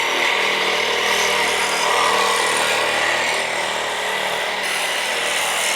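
A reciprocating saw grinds steadily through a Subaru rear suspension arm during a suspension rebuild, a loud, continuous rasping buzz up close with no pauses.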